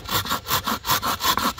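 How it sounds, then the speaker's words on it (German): Hand saw cutting dead wood held nearly flat, a close, steady run of about eight rhythmic rasping strokes back and forth, with no voices over it. "So flach wie möglich übers Holz gleiten die Säge"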